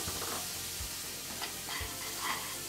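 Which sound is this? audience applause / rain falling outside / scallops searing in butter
scallops searing in butter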